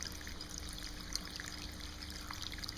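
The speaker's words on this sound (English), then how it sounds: "hand-sculpted tabletop fountain from Natural Creations" Water trickles steadily through a hand-sculpted stone tabletop fountain by Natural Creations, shaped like an eroded ruin with live plants, making a soft, continuous close-up babble with no voices.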